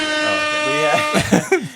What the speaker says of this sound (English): Oh, is that the air horn?